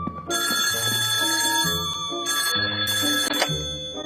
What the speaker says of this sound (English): the Chipmunks make it home just in time for Dave to get a call from Miss Miller asking how the boys managed to get 3 of her